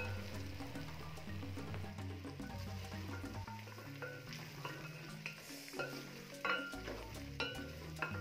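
Potatoes being stirred into beef pilau in a cooking pot, with a steady sizzle and clattering spoon-and-pot scrapes running throughout at close range, no talking.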